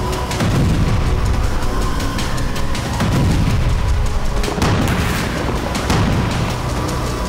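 Explosions and artillery fire from the Russia-Ukraine war sound as a dense, loud, continuous rumble with repeated deep booms and crackling bursts, heavy and unbroken throughout with no talk.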